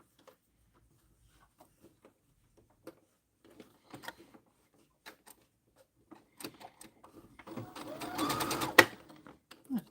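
Sparse ticks and clicks give way to a brief burst of rapid mechanical stitching from a freshly rethreaded sewing machine, close and moderately loud, with no talking.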